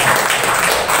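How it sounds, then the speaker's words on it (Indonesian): A church congregation applauding as thanks to a visiting pastor, a loud, dense wash of clapping filling the whole short moment. "Tepuk tangan dong Bapak Ibu."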